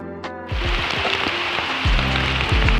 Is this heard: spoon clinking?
no